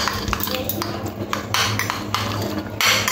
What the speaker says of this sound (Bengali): এবার আলুগুলো ভালো করে ডিমের মধ্যে মিশিয়ে নেব